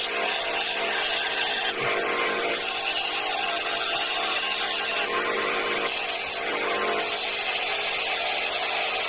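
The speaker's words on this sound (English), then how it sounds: "120 grit with the belt sander" A belt sander running 120 grit grinds a bevel into a steel file being made into a knife, giving a steady, loud abrasive hiss and rasp that holds continuously throughout with slight swells in pressure.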